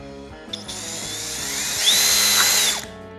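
Power drill fitted with a nutsetter bit driving a screw, one steady whine that climbs in pitch and loudness toward the end before cutting off, close and alone.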